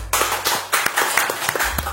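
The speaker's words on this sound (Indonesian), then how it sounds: "Tepuk tangan." Applause welcoming a podcast guest, a short burst of a few people clapping with distinct sharp claps, close and fairly loud, lasting about two seconds.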